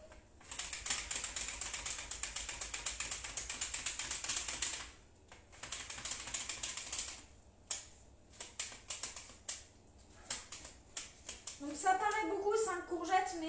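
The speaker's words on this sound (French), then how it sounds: "On coupe nos courgettes à la mandoline." Courgettes are sliced on a mandoline in quick, rhythmic bursts of sharp clicking strokes, close and crisp, with brief pauses between runs and a voice briefly heard near the end.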